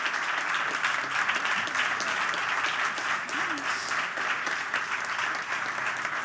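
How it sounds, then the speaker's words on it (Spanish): Audience applause at a tenth-anniversary celebration event for installers, a sustained, dense roar of many hands clapping continuously throughout, fairly loud and steady, with faint voices mixed in. "pido un aplauso enorme para vosotros y para ellos"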